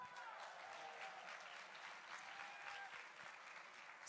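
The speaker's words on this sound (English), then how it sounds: "Let me hear a big round of applause." Audience applause at a Save Soil event in Jordan, a steady wash of many hands clapping that holds evenly throughout, sounding fairly distant and soft, with no voices above it.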